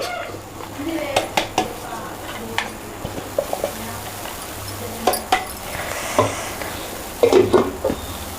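Fried curry leaves and sambar powder being stirred together in a pan, with repeated scraping and clinking strokes of a utensil against metal over a low background hum.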